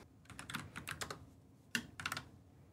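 Quiet typing on a computer keyboard, a few irregular bursts of light key clicks with a short pause in the middle, close and alone.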